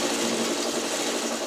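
A sewing machine stitching quilt block seams for a churn dash block, running in one continuous rapid whirring burst, close and steady, with no voices.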